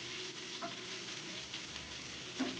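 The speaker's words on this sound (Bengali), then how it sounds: "তাই একদম অল্প তেলেই আমি মাছগুলোকে ভেজে নিচ্ছি হালকা করে।" Fish frying lightly in a small amount of oil for a pui mechri curry, a soft steady sizzle with faint stirring ticks, low and close throughout.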